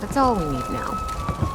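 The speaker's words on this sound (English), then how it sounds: "Rain." Steady rain patters in the video game Fallout 76, a continuous soft hiss under a man's spoken line.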